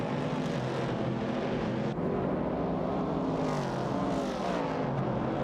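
Video-game race cars, a Dodge Challenger and a Ford Falcon among them, roar steadily at high revs, their engine notes rising and falling as they battle side by side, loud and continuous with no talking over them.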